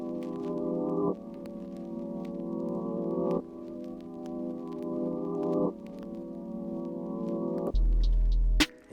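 Chopped, reversed melody sample pitched up 340 cents in FL Studio, sustained tonal chords switching in blocky segments every couple of seconds, ending with a short lower tone and a sharp click.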